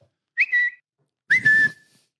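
Someone whistles two short, bright, rising notes, each under half a second, close and loud with silence between them.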